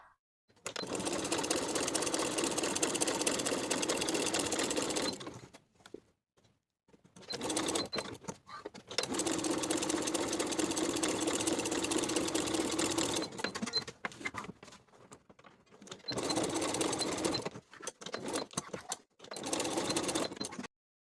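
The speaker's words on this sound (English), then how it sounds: "Then I'm going to make a couple more horizontal stitches, 3/8 of an inch below the first horizontal stitch" A sewing machine runs in long stitching bursts across a bag strap, stopping and restarting with short gaps, then finishing with a series of quick short runs.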